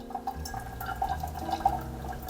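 Hot water pours steadily for a coffee brew, a continuous gurgling, bubbling trickle with small splashes, close and fairly quiet, with no voices.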